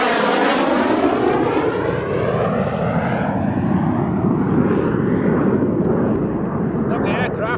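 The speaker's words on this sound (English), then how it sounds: "Lovely aircraft. So glad that it just flew straight over my head, dreadfully slowly." A fixed-wing aircraft passes low and slowly overhead in Scotland, a loud, steady engine roar filling the whole stretch, its pitch sliding gradually downward as it moves past and away.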